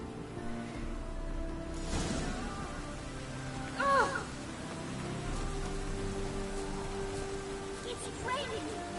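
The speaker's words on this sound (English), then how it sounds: "It's raining buckets!" Heavy rain pours steadily in The Witcher 3, a dense continuous wash of noise with a brief swishing flourish near the middle and faint voices mixed under it.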